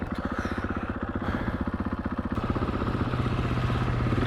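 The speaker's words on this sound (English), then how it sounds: "Okay, I'm gonna do a drag race against Mrs. Moto" Two supermoto motorcycles, a 450 and a 250, are lined up for a drag race launch. A close, rhythmic engine pulse chugs steadily and grows slightly louder and busier toward the end.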